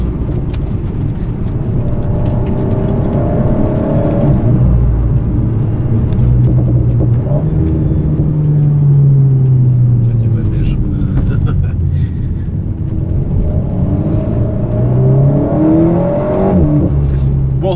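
An Alpine A110 S driving and drifting on a technical ice circuit, its engine droning and revving loudly and steadily up and down throughout, close to the car, with faint voices underneath.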